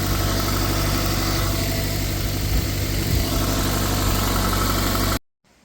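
A Toyota MR2 engine idles close by, firing on all four cylinders with a steady, even mid-pitched rumble that runs unbroken before cutting off abruptly near the end.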